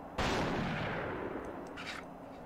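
A single loud, close gunshot in the horror shooter The Thing, a sharp blast with a long noisy decay, followed by a couple of faint clicks.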